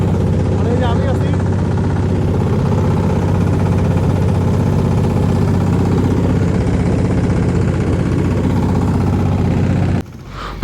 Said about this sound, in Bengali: ছেড়ে দিল আমাদের নৌকা, যাচ্ছি আমরা যমুনার চরে।